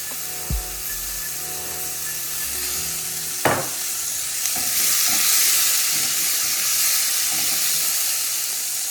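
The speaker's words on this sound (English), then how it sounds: "And we're pretty much gonna saute these." Food sautéing in oil in a pan on a fishing trip, likely the freshly caught rainbow trout: a steady sizzle with a few scrapes and clunks of a utensil stirring, close and fairly loud, with no talk.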